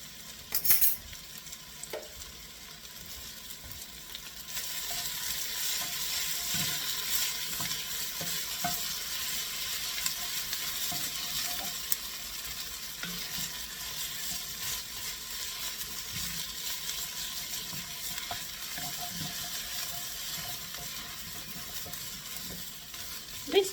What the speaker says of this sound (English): You're going to add a tablespoon of tomato paste. Stir it around.